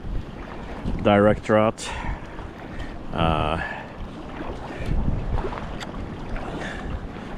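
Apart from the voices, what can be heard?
wind gusts while sea kayaking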